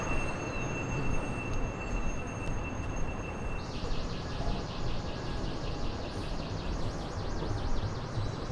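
A New York number 7 subway train rumbles steadily nearby at a station, with a high metallic wheel squeal rising and warbling partway through, and no one speaking.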